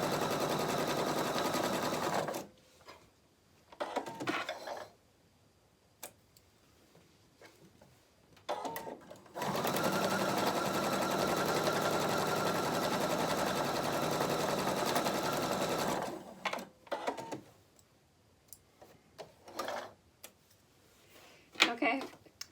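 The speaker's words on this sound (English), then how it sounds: "just use a 1/4 inch seam, you're just sewing right down each side." A sewing machine stitches a quarter-inch seam down each side of a monogrammed fabric face mask with elastic, in two long steady whirring runs separated by pauses filled with quieter handling noise.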